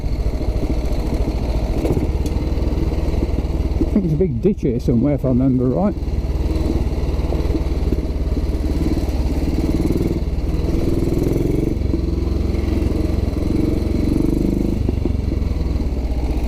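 A rigid-framed 1944 Ariel trials motorcycle, W/NG based, runs steadily up close on a rural green lane, its engine a constant low drone with a brief rougher burst while someone talks over it.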